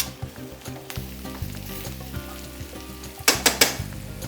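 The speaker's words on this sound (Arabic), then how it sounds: "اولا الشامبينيون يتقلى" Mushrooms frying in a pan, a close sizzling crackle with a low hum beneath and a burst of sharper spattering bangs near the end.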